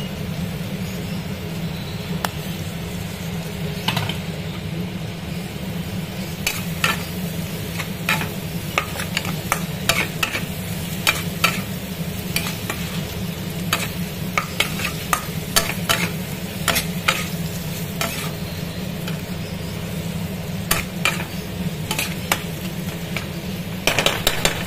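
Washed, squeezed meat is stirred and dry-fried in a pan without water, giving a steady low sizzle broken by frequent sharp scraping clicks of the spoon, with no talking.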